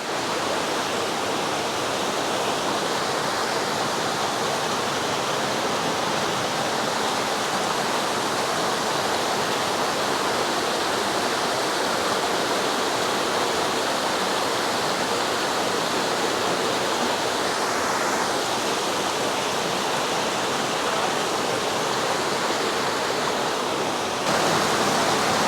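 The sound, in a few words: water pouring out of a cave in a cliff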